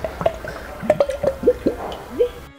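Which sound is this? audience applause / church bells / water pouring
water pouring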